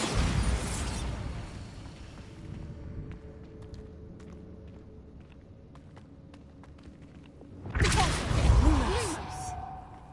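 Bombarda exploding spell cast in Hogwarts Legacy: a loud, dense burst near the start fades into faint ambient clicks and rumble, then a second heavy whooshing blast swells near the end.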